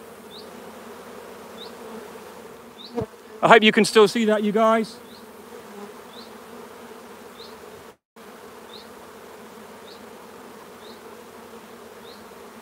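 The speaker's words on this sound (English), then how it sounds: "Look at the beard of bees there, look." Honey bees buzz steadily around a queenless hive set up for queen-cell grafts, with a beard of bees clustered outside; a continuous near drone runs throughout while someone talks briefly over it.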